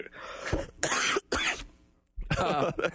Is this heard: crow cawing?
no